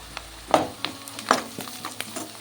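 Chopped onions frying in a pan with turmeric and salt, a low crackling sizzle broken by a few sharp scraping stirs and clinks, close and fairly quiet, with no voices.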